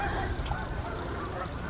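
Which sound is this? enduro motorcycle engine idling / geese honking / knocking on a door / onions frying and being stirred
geese honking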